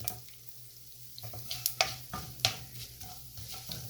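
Mustard seeds and cumin crackle in hot oil with a soft, continuous sizzle, broken by a few sharp pops and stirring scrapes close by, with no voices.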